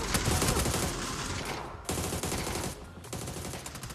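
Gunfire in PUBG during an EMEA Championship grand final match, loud sustained bursts of automatic fire with brief pauses between volleys, no voices over it.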